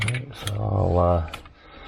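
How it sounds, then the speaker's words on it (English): A ratchet tightens the harmonic damper bolt on an LS1 V8 engine. It gives a short, close run of mechanical clicking with a tonal ringing layered through the middle. "tighten it up as much as I can with the ratchet"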